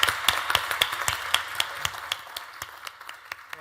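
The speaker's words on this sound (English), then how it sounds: "let's give a round of applause for our panelists" Applause for conference panelists fills the room, a steady patter of many hands clapping with sharper individual claps standing out, gradually thinning toward the end with no talk over it.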